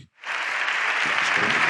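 A parliamentary chamber breaks into applause at the end of a speech, a sustained dense clapping from many hands that swells quickly after a brief pause and carries on evenly, close and loud.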